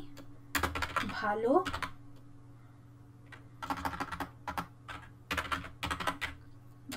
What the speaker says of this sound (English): now I will type Ami Bhalo Achi